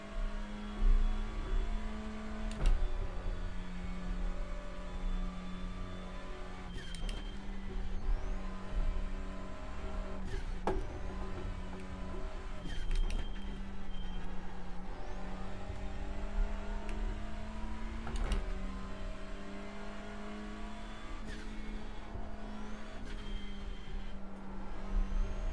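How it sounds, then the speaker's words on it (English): BMW race cars in the NEC 2025 Round 1 series driving past on a circuit, a steady engine drone with several passes swelling and fading, sharp gear shifts now and then, continuous at moderate distance. "Here comes some more BMWs as well."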